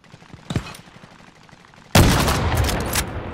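Video game gunfire during a team squad match: a sharp shot near 0.5 s, then from about 2 s a sustained, loud burst of rapid automatic fire with dense repeated cracks running to the end.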